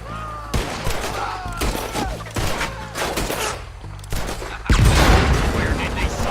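Gunfire in the game Red Dead, a run of loud close shots in irregular bursts with a heavier blast near the end, heard alone without talk.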